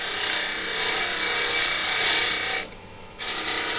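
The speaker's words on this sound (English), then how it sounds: "Now we're ready to mount this in the chuck on the lathe." A banksia pod being fitted into the jaws of a wood lathe chuck: a continuous close-up scraping, rasping rub with ratcheting texture, briefly stopping for about half a second before resuming, with no talk.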